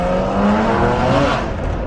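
A tuned car, apparently a BMW M4, accelerates hard on a street in Berkeley, its engine roaring loudly with a rising pitch in one brief, continuous burst, close by and with no talking.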